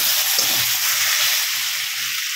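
Ground cumin and crushed ginger sizzle steadily in a hot frying pan, a continuous bright hiss with soft low bubbling underneath, fairly loud and close, with no voices.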